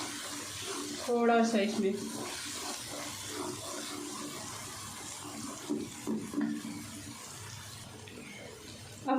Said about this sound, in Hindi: मैं पानी ऐड करूँगी